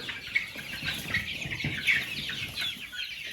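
Young chicks crowded in a brooder before being moved to a coop give soft, continuous clucking and peeping, a busy overlapping chorus of small birds close by with no talking.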